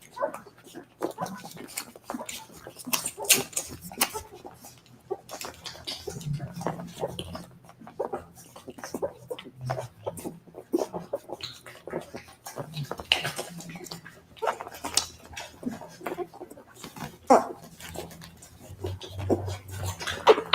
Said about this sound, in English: Beautiful nursing little puppies.